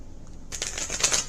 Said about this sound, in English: let's keep shuffling